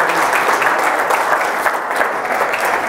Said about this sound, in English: let's give Helena a big round of applause